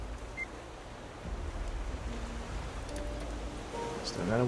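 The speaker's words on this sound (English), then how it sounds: "letting the ocean sounds threaten to put me to sleep" Ocean waves in the survival game Raft, a steady soft wash of surf with a breezy hiss that swells slightly toward the end, heard at moderate distance with no other prominent sounds.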